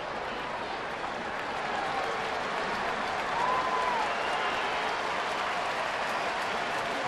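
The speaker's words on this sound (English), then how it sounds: "Dodger fans are cheering for the dive and the effort of Puig" Dodger Stadium crowd cheering a diving catch attempt by Puig in a Rays at Dodgers baseball game, a broad distant roar swelling slightly midway and sustained.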